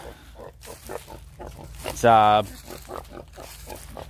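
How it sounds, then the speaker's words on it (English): A mother pig gives one loud, close grunting squeal around breakfast time on a farm, standing out briefly over a steady low background while a person speaks faintly nearby. "Mama pigs are out."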